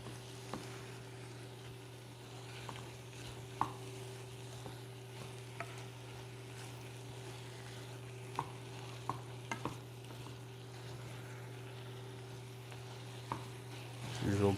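Chopped garlic frying in a pan is stirred steadily, giving a soft sizzle with occasional scrapes and taps of the utensil over a constant kitchen hum.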